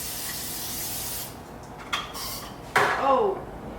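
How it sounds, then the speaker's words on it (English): Cooking spray is sprayed onto a kitchen pan in two short hissing bursts, the second louder and closer, with a little clatter around them. "Spray the pan."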